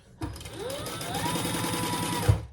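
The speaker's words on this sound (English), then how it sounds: "This black is very sticky on my sewing machine, so I'm having to do it with the other." Sewing machine stitching black fabric for a bowler bag, a close, steady mechanical whir with rapid needle clatter running for about two seconds before stopping.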